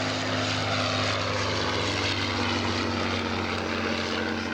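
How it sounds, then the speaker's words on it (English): A vintage propeller fighter from the First World War era, first flown in 1917, flies a slow, controlled roll at the Duxford Flying Legends air show, its engine giving a steady, loud, continuous drone with no talk over it. "Slow roll, look at that, beautifully controlled, gently around the rolling axis of the aeroplane."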